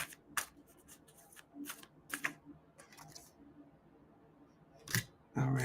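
A deck of cards being shuffled and handled up close, with bursts of riffling and soft card flicks separated by quiet pauses, ending in a louder rustle.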